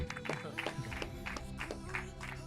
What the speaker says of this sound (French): Dubik, on peut l'applaudir bien fort, s'il vous plaît.